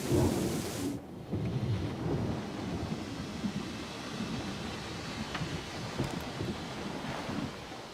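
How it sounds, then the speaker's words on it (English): Thunderstorm in the game Syberia The World Before, with a loud rumble of thunder at the start fading into a steady roar of heavy rain and wind, no voices. "We can go as soon as this storm's over, probably tomorrow or the day after."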